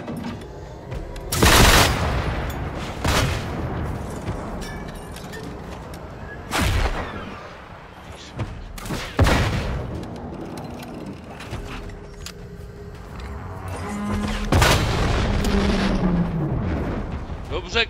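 Gunfire in the video game Generation Zero, several loud bursts and booming shots scattered across the stretch, with background rumble between them and no talk.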